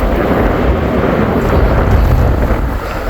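Strong wind roars and buffets the microphone while fishing, a loud, constant low rumble with no pauses.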